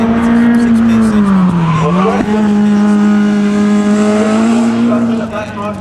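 A Cobra sprint car racing at the 2013 Leyburn Sprints, its loud engine droning steadily close by with a brief dip in pitch and squealing tyres, then easing slightly at the end.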